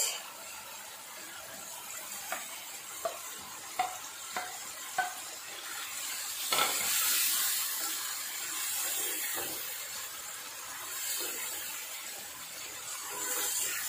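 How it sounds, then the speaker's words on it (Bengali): Dried fish (shutki) sizzles while being sautéed in spices in a pan, with a handful of sharp utensil clinks early on, then a steady frying hiss that swells and continues. "মাছটা দিয়ে আবার একটু ভালোভাবে কষিয়ে নেব"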